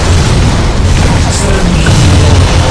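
Heavy weapons fire and explosions in the Warhammer 40K Dawn of War Soulstorm strategy game, Eldar against Sisters of Battle, a loud continuous barrage of booming blasts and crackling bursts layered densely without pause.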